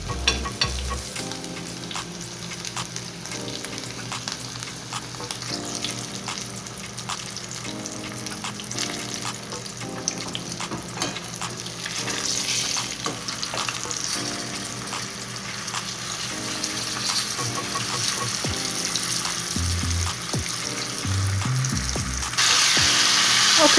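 Continuous sizzle of fish frying in crackling oil, plus occasional scraping and stirring noises nearby; a voice may murmur faintly.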